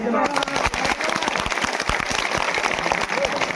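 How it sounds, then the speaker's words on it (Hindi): A crowd claps at a village panchayat meeting, a brisk mass of close handclaps running continuously with a voice talking over it. "ताली बजा दो"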